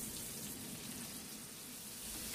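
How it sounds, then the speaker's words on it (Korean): Sliced garlic and pen shell scallop frying in melted butter, a dense, even sizzle heard close and steady throughout a short stretch. "지금부터 마늘과 간자가 타지 않게 잘 볶아주세요."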